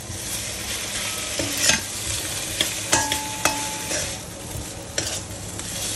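Chicken sizzles steadily in a frying pan, a dense, even crackle broken by a few brighter clinks and stirring knocks, close and with no talking over it.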